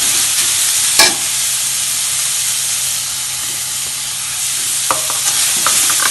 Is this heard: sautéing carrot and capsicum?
yes